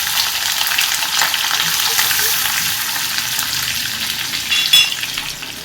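Sliced ginger and green chillies frying in sesame oil, a steady dense crackling sizzle that holds throughout with a slight flare near the end, close and alone with no voices.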